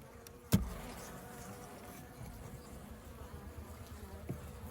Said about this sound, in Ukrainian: Зараз вже вечірня година, то бджоли трошки агресивні